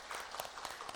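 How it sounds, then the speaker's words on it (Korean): Church congregation claps briefly to welcome new members at a Sunday morning service, a short, fairly faint patter of scattered hand claps with no voices. "박수로 환영하겠습니다"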